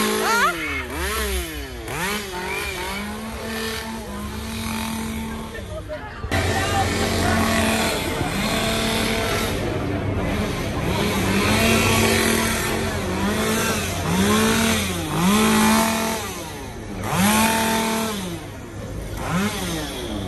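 A costumed performer's revving chainsaw at a Halloween haunted house in Parc Astérix buzzes and whines in repeated surges over a noisy crowd, loud and continuous throughout.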